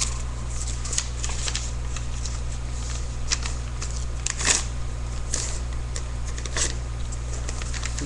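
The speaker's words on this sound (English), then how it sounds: "Then you fold it into a rectangle." Paper being folded into an origami crane, with soft rustles and crinkles and a few sharper creasing crackles scattered through, close and fairly quiet over a steady low hum.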